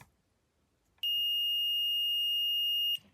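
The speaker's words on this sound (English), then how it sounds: "you are going to get this beeping sound." A single steady high-pitched electronic beep from a multimeter in continuity mode holds for about two seconds, loud and close, against an otherwise quiet background.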